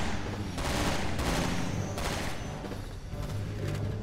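Gunfire in the video game Resident Evil 6, a steady barrage of shots and bursts packed closely together at a loud, constant level, with no talking over it.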